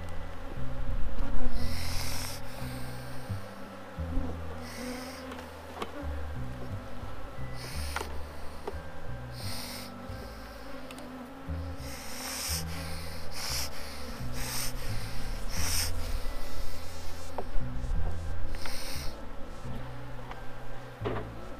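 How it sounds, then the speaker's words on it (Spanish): Honeybees pour out of a brood frame lifted from a hive in January, a dense, continuous nearby buzzing with scraping and rubbing of the frame throughout. "Salen las abejas a vernos"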